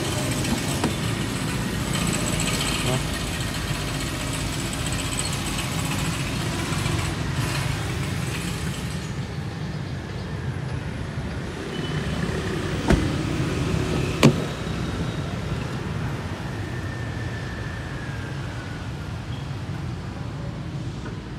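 Diesel Toyota Fortuner engine running steadily with a low continuous rumble, heard close and alone without speech, with a couple of brief clicks near the end.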